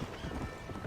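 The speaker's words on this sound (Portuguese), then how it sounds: "Ao galopar, aperte repetidamente para ganhar mais velocidade." Horse hooves galloping in the video game Red Dead Redemption, a quick rhythmic clip-clop of hoofbeats heard alone for under a second.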